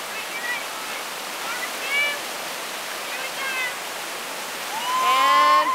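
Whitewater rapid on the Pigeon River rushing steadily as broadband roar, with faint voices and a brief shout near the end.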